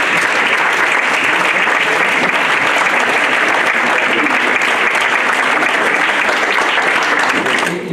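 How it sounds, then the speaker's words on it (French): Sustained applause fills the room at a municipal council meeting as newly elected deputy mayors are honoured, a loud, dense clapping from the assembled members and public that continues steadily without a break. "je pense qu'on peut les applaudir"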